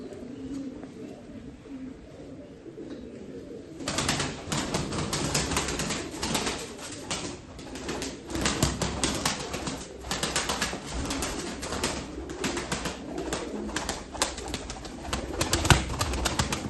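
Pigeons at a Turkish bird auction, including crested and white-headed males, cooing and fluttering in a busy loft, with a steady murmur of birds and occasional wing flaps after a quieter opening few seconds.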